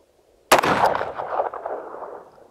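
A single loud, close gunshot from a Colt Python revolver, a sharp crack followed by a long echoing decay, with no talk over it.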